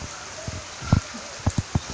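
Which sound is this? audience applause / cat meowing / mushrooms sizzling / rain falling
rain falling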